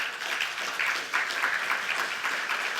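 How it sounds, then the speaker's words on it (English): Audience clapping for Hall of Famers at an XR conference event in a room, a steady wash of applause from many hands, moderately loud and continuous with no talk over it. "Give them a big round of applause."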